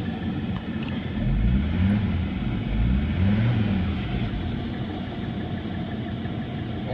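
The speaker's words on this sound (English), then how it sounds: "I mean, the engine's awesome." A 1985 Mercedes 300D diesel engine idling before reaching operating temperature, a steady low rumbling clatter with a slight pulsing swell, close and continuous with no talk.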